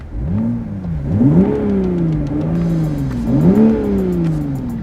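A 2022 Toyota Supra GR with a 3.0 turbo engine rated at 340 hp revs repeatedly, two rising-and-falling pulls of a deep, smooth engine note, loud and close with no voices.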